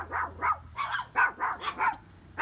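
Several dogs bark excitedly in a rapid series of about eight close, loud barks at people walking past a house.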